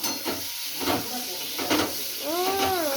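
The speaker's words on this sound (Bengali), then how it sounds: "পটল ভাজা হয়ে গেছে" Sliced pointed gourd (potol) frying in oil in a home kitchen pan, a steady bright sizzle with bursts of hiss as pieces are stirred, and a faint whistling tone near the end.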